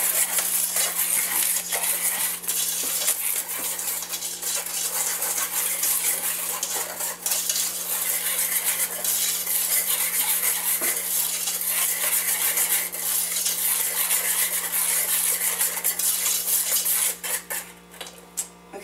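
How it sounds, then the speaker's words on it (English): A flour mixture for banana pudding being whisked in a bowl: a dense, continuous rapid scraping and clinking of the whisk against the sides, loud and close, keeping on without a break for nearly the whole stretch; no speech. "we're going to whisk this all together"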